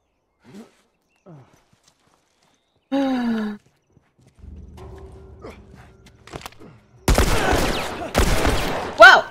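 Shots ring out in The Last of Us Remastered: after quiet scuffles and a vocal grunt, two or three loud, harsh bursts of gunfire hit close together near the end.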